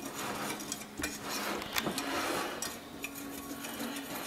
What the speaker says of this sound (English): Now, we whisk this together. Just to mix it up.